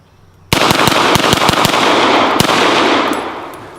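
A real C96 pistol fired rapidly, a string of about seven sharp, loud shots in quick uneven succession followed by one more, each crack ringing out outdoors with a long echoing tail fading at the end.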